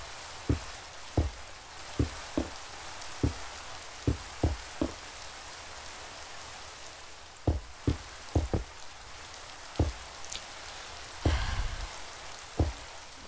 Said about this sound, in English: Why is it gotta rain?